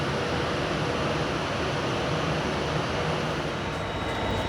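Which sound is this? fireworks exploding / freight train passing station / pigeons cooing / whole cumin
freight train passing station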